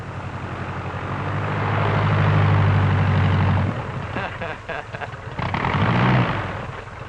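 A 1941-era propeller airplane roars past close and loud, swelling to a peak and fading, then a second engine surge follows as someone talks over the noise.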